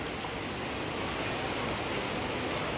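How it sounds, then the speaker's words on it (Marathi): Heavy rain pours down steadily, a dense, continuous hiss of water with no pauses, loud and close throughout. "अचानक खूप जोरात पाऊस यायला लागलाय"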